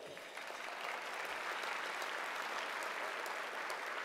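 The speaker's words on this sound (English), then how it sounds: "a round of applause for them as well" Audience applause for volunteers at an evening event, an even, sustained roar of many hands clapping at steady volume without a break.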